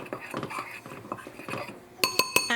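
Seasoned flour with salt and black pepper being stirred in a bowl: soft scraping and rustling, then three sharp metallic clinks of a utensil against the dish near the end, with faint voice-like murmurs underneath.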